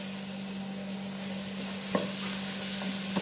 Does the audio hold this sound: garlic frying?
yes